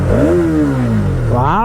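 A Hero Xtreme 250R motorcycle exhaust revs loudly and close by, its pitch sagging slowly as the revs fall off, then climbing sharply again in a fresh throttle blip near the end.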